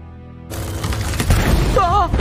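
A magic life plaque abruptly shatters and explodes: a sudden broadband burst of crashing, crackling debris that sustains loudly for about two seconds, with a warbling tonal sweep rising near the end.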